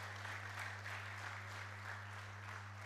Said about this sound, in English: Please, let's give him an applause.